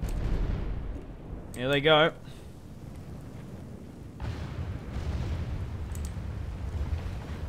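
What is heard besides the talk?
cannons and mortars firing in Total War Warhammer video game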